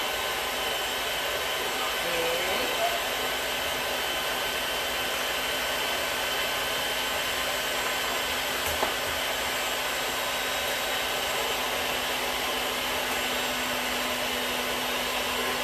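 An electric mixer running on low beats red velvet cake batter as eggs go in one at a time, giving a steady, even whir that holds at a constant level throughout with no talking.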